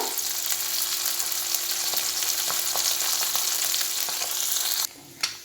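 Mourala fish frying in hot oil for a spicy curry, a steady close sizzle with faint stirring clicks, ending abruptly in near quiet with one last brief spatter.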